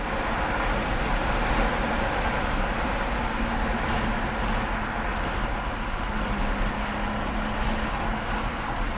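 A BMW E36 on the move, heard from inside as loud, steady broadband road and engine noise with a faint low hum running through it and no voices.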